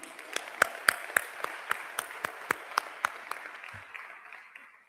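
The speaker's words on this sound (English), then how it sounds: "Another round of applause for Matthew." Applause from a conference audience at an education event, heard as a thin scattering of individual claps with a few sharp, close ones standing out, tapering off toward the end.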